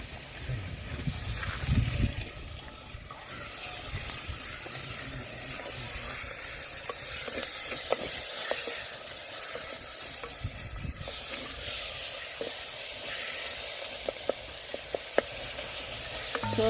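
Tomatoes go into a hot pot, setting off loud, bubbling sizzling and frying that carries steadily throughout, with stirring scrapes and clinks scattered over the hiss.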